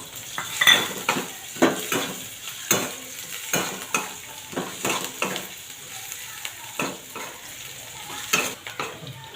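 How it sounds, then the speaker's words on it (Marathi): Sliced onion and green chillies frying in a pan for kanda poha, with a soft constant sizzle broken by repeated sharp scrapes and clinks of a metal spoon stirring against the pan. "कांदा थोडा भाजत आला की त्याच्यामध्ये मिरच्या टाकून घेऊया."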